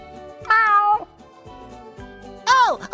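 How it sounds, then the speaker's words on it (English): Gary the snail in the SpongeBob Battle for Bikini Bottom Rehydrated video game gives two loud, close meows, one early and one near the end, over a rhythmic low game music loop. "Meow."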